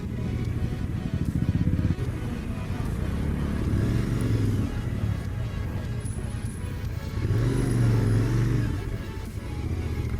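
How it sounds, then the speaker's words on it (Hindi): A Royal Enfield Continental GT 650 motorcycle idles and rumbles close by while being parked at a gurdwara lot, with a steady low engine throb that swells in two short revs. "अब हम फ्री पार्किंग में जाके बाइक लगा रहे हैं।"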